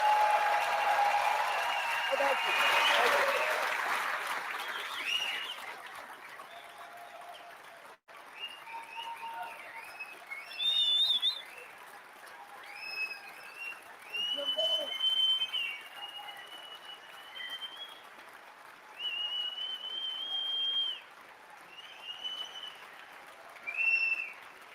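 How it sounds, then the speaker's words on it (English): A crowd at an Alberta independence rally in Calgary bursts into loud applause that fades over several seconds, followed by scattered whistles and brief bursts of clapping and cheering. "Give him a big round of applause to thank him for his service."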